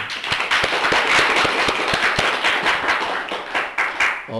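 An audience claps to welcome three visiting Presbyterian ministers at an ordination service, a loud, dense burst of hand claps with sharp individual slaps standing out, steady throughout and easing slightly near the end.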